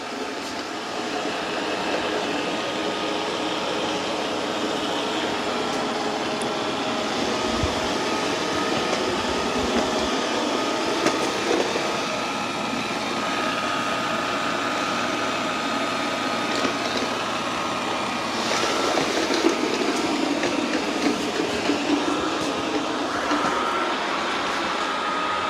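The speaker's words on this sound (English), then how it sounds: "It's doing an excellent job of vacuuming." A Eufy C10 robot vacuum cleaning a floor, giving a steady, fairly quiet motorized hum and brushing whir that runs unbroken throughout, with faint shifts as it moves.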